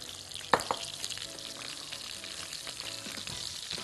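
Rice sautéed in a pot with tomato sauce and onion, a steady soft sizzle with a sharp clatter of stirring near the start and lighter scrapes later, no talk.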